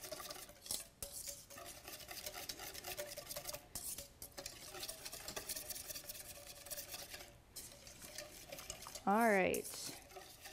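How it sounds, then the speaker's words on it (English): A spoon stirs raw chocolate truffle mixture in a bowl with soft scraping and clinking, quiet and close, and a brief spoken remark comes near the end. "It takes a little bit of stirring, but it's well worth your while"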